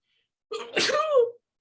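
A lone sneeze in a chemistry class, a quick sharp inhale followed by a loud burst, close and clear against silence.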